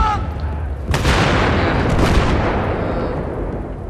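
A frag grenade explodes in Battlefield 3 on Karg Island, a loud close boom with a sharp crack and a long roaring decay, followed by a second blast burst a moment later.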